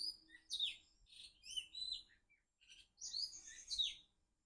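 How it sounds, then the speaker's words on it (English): Several birds chirp and tweet in quick bursts, high and bright with brief pauses between phrases, moderately close in a quiet outdoor setting. "I hope you can hear the birds right now."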